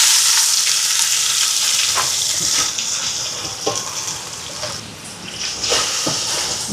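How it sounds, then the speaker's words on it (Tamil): Chopped onions and green chillies fry in a pan, giving a steady, close sizzle with occasional stirring scrapes and no talk. "இப்போ பாருங்கள் வெங்காயம் எல்லாம் நல்லா வதங்குது."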